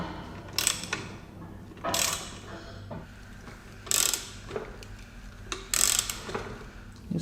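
Bearing puller being tightened on a Jaguar S-Type differential during teardown, with repeated ratcheting clicks and metallic mechanical clacks in irregular bursts, close and moderately quiet.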